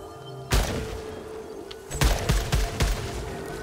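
Weapon fire in the sci-fi shooter Returnal: a sharp blast, then a cluster of several punchy shots with booming low thuds, loud and close, with quieter game ambience between them.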